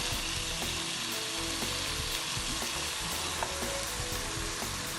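Liver stir-fried with garlic, soy sauce and oyster sauce sizzles steadily in a hot pan, with a continuous frying hiss and scattered clinks and scrapes of a utensil stirring throughout.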